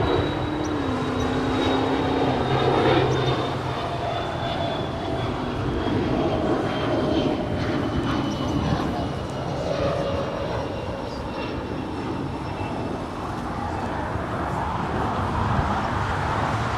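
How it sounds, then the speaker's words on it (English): A Korean Air Boeing Dreamliner on short final to runway 24 at Los Angeles International Airport, a steady broadband jet roar with a slowly falling whine, continuous and fairly loud amid airport background noise. "we have the Korean Air Dreamliner now in short final for 2-4 right there on the north side"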